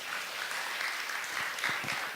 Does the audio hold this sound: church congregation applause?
yes